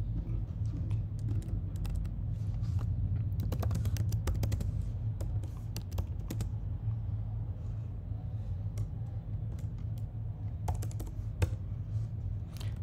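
Steady, rapid clicking of a computer keyboard as text is typed into a GitHub readme file, continuous and close over a low background hum.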